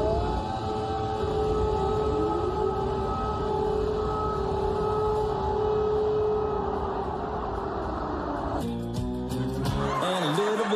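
Air raid sirens wail over Kyiv in news coverage, a steady sustained tone with a slow rising sweep against a low rumbling city background, heard at a distance before an abrupt cut near the end.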